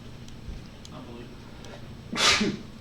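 A single sharp sneeze bursts out near the end, loud and close, after a stretch of quiet room noise.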